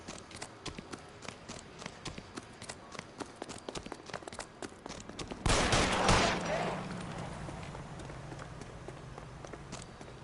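Rapid gunfire in L.A. Noire, a dense run of sharp cracks and footsteps for several seconds, then a loud burst that settles into a lingering rumble, with some voices faintly under the action.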